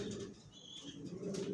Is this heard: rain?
no